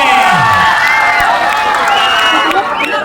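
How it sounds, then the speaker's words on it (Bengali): A crowd at a local football tournament cheers and applauds the runners-up team, with loud overlapping shouts, whoops and clapping from many people nearby. "একটা জোরদার হাততালি হোক রানার্স ইউনাইটেডের জন্য"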